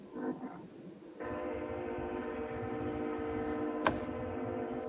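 A train rolls past outside a multi-storey building, a loud sustained horn-like tone with a steady rumble that swells in after a quieter start and holds to the end, with a short sharp knock near the finish.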